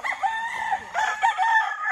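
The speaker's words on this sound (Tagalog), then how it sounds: "Sobrang daming manok." A rooster crows loudly and close by amid a large flock of chickens, a drawn-out cock-a-doodle-doo with clucking fowl around it and no talk.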